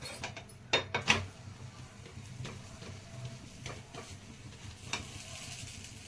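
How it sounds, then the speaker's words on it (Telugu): Raw banana roti roasts on a pan with ghee, giving a faint, steady sizzle beneath a few sharp clinks and scrapes of a utensil near the start. "ఇప్పుడు రోటీ కాల్చుకుందామండి."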